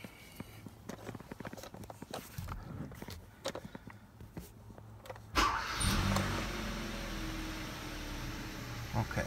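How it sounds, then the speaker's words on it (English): Kia car engine with a crankshaft position sensor fault, cranking with clicks and knocks under footsteps before catching at about five seconds into a steady, loud idle rumble that continues to the end. "Try to turn this over, see if it'll start."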